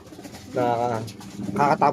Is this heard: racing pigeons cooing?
yes